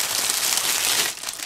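Plastic bags from a Miniart 1/35 T-55 Polish-production tank model kit crinkle and rustle continuously up close, with a busy crackling texture that eases slightly near the end.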